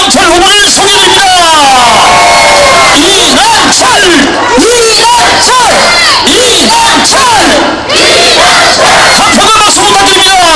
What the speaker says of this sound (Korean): 국민 여러분들의 뜨거운 함성과 이 열정이 가슴으로 느껴집니다